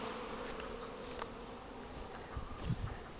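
Honey bees circle in a lively cleansing flight near the hive on a warm spring day, a steady buzzing drone with individual bees passing close and a few louder swells near the end.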